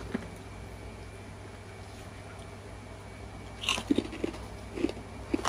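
Crunchy golden salted egg peyek, a small Malaysian fried cracker, being bitten and chewed close up, with several sharp crisp crunches in the second half after a quiet stretch.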